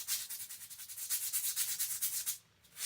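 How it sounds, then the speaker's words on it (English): Repeated back-and-forth rubs of 3M sandpaper roughening a surface while fitting a wheel cylinder on a 1969 Morris Minor 1000, a steady close scratchy rhythm of about a dozen strokes that stops briefly near the end. "So, a little bit of 3M sandpaper,"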